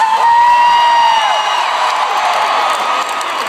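A large concert crowd in a Dallas arena roars and cheers, a sustained high whoop riding over dense, continuous crowd noise at steady loudness.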